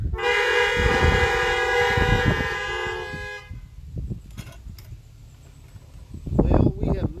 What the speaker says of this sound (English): another big horn honk